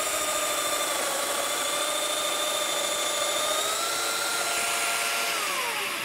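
Power saw cutting mortises in wood for a recycled trestle table, a continuous loud high-pitched whine with steady broadband cutting noise and slight pitch shifts, no speech.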